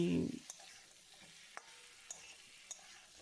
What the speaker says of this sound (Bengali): আলু ভাজাটা দিয়ে দিলাম